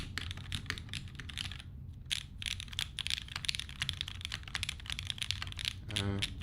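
Rapid, steady clacking of keys typed on a custom Daji Ocho Cuatro 2.1 mechanical keyboard fitted with O-rings, close and continuous with a brief pause partway through.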